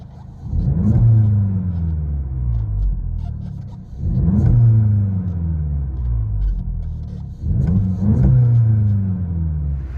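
A 2020 VW GLI turbo engine with a straight-pipe MBRP cat-back dual exhaust revs up hard three times in a row, each rise falling back to a throaty rumble, heard close from inside the cabin.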